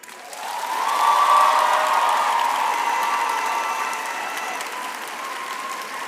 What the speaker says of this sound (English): I would now like to ask our graduates to applaud their families, friends, spouses, or partners for their support over the years